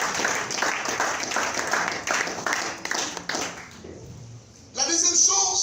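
A church congregation clapping during a morning service, a burst of applause mixed with voices that fades after a few seconds, followed by a loud voice over the quieting room.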